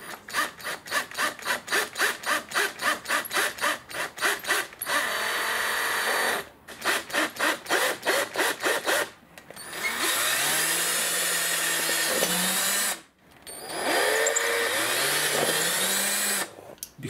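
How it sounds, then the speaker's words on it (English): A power drill bores pilot holes for a bifold closet door bracket, starting with rapid pulsed bursts, then running in long steady whirs whose pitch shifts as the bit bites. The drilling is close and loud, with short pauses between runs. "Now it's time for the pilot holes."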